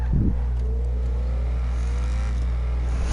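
A sports car with a rear wing revs its engine in GTA 5, a steady loud engine drone with a rising whine, close and continuous with no talk.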